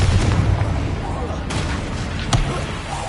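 A Confringo fire spell explodes in the Hogwarts Legacy video game, a sharp booming burst amid dense, continuous game noise and a low rumble, with a second brief blast flaring near the end.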